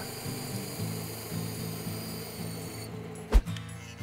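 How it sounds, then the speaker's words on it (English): A bandsaw cuts wood for a guitar pedal board, a steady motor hum with a rhythmic pulsing drone, then the motor cuts off and a sharp knock sounds near the end. "I used a 1-2-3 block as a cutting guide on the bandsaw."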